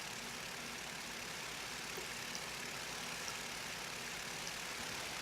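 A tech vehicle engine in TerraTech drones on at a steady idle-like hum with a faint, even texture, quiet and unchanging across the whole stretch.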